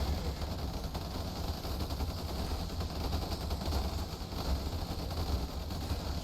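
Rapid gunfire from a new weapon rattles in a dense, unbroken barrage during a large Ultimate Epic Battle Simulator battle, with the constant rumble of combat behind it.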